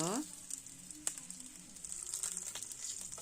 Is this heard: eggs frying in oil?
yes